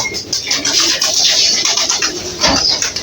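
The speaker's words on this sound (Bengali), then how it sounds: "আর এই যে কবুতরের বাসা, এই যে কবুতর আসলো" Pigeons cooing near their nest, with several close, fairly loud coos and rustling over steady background noise, and no voices.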